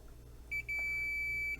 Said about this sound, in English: leave it on audible continuity check and test all 3 holes. So one will beep for the red